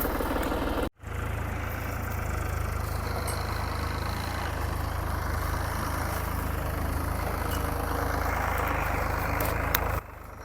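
A tractor engine runs a groundnut thresher with a loud, continuous low rumble and mechanical clatter up close. A brief cut interrupts it near the start, and it then continues steadily without talk.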